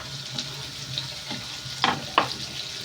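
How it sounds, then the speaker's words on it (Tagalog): Ginger and onion sautéing in a pan for bopis, a low steady sizzle with a few sharp scraping or clinking accents near the end, moderately close and without speech. "Igigisa ko yung una kong nilagay yung luya."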